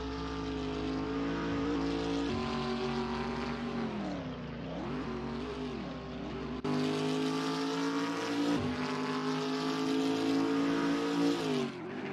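Toyota Hilux race cars roar around the Toronto street circuit, a steady loud engine drone with shifting pitch and a sudden jump as the cars pass close.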